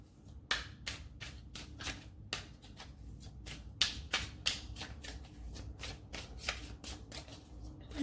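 Tarot cards being shuffled by hand, a quick series of crisp riffling bursts and soft slaps in an irregular rhythm, close and fairly quiet with no speech.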